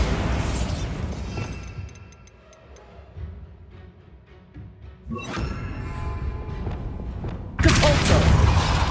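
A Bombarda blasting spell goes off in Hogwarts Legacy amid magical clatter and ticking mechanisms, with a heavy burst near the end and loud crackling effects before it.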